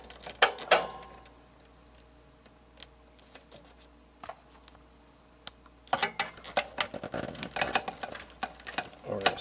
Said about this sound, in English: we're gonna go down in here with a screwdriver